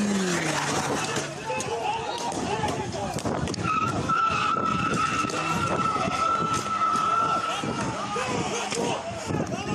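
Cars drifting near a market during a brawl, with tyres screeching in long sustained squeals over engine roar and scattered pops, while people talk over the noise throughout.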